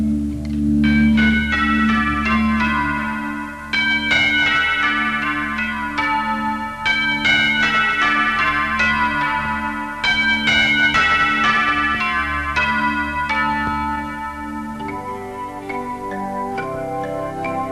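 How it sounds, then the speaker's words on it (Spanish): Bell chimes ring out within a sung, orchestrated song about cruel war, clear tonal strikes layered over sustained music throughout, with no speech. "Con campana y todo."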